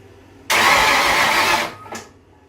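A big-block V8 in a Mazda Miata, cranked from a lawnmower battery, catches and roars loudly for about a second before cutting out, followed by a brief second burst of noise.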